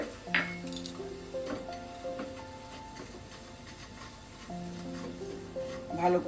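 A pan of mashed chhana with date palm jaggery (gur) cooks on the stove. A spoon stirs and clinks against the pan in scattered strokes over a soft, steady sizzle.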